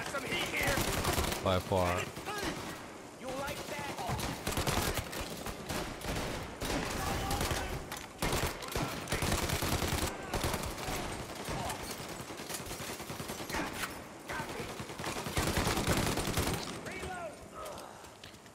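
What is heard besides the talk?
gunfire from a loud gun in video game Mafia Definitive Edition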